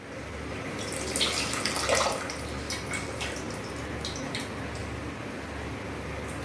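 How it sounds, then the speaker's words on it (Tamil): Tamarind water streams and splashes steadily into a pot of sambar, with a brief louder gush early on, continuing as a soft, even trickle. "நீ புளி ஊற்றிடலாம்"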